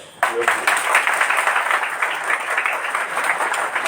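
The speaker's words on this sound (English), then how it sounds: "Give a clap." Audience at a community-based tourism seminar in Dhaka breaks into sudden applause for students, a dense sustained clapping that starts sharply and carries on steadily, with some crowd murmur mixed in.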